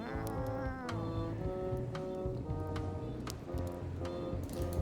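A cat meowing in the video game Return to Monkey Island, drawn-out tonal cries repeating over a steady ambient background of rustling and rain-like noise, with no talking.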